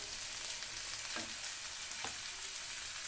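Four green chillies fry in a little oil in a pan for a Bengali sour-spicy brinjal curry, producing a steady close sizzle with a couple of soft stirring scrapes.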